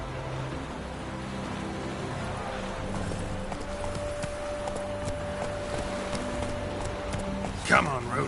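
Steady horse hooves clip-clop at a walking pace in The Witcher 3 video game, close and continuous under background game music, ending with a short burst of a louder sound.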